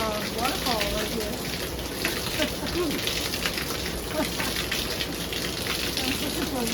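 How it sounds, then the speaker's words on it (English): Heavy summer rain pours down in sunshine, a dense, steady hiss of drops with splashing water close by, while faint voices and a few clicks sit beneath the constant wash. "it's raining so hard and the sun's shining"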